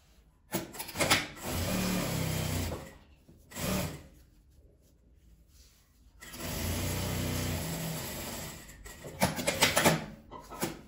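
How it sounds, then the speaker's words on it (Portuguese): Sewing machine running seams across a patchwork fabric document holder: two long steady stitching runs with short bursts and clicks between, close and fairly loud, with no talking. "vou passar as costuras de cima e embaixo nele todo"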